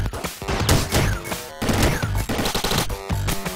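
Rapid, dense video game gunfire from Downwell crackles in bursts of sharp shots and crashes, loud and close, with brief pauses between the volleys.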